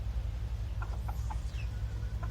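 An American Silkie chicken gives a few soft, short clucks at close range over a steady low background rumble.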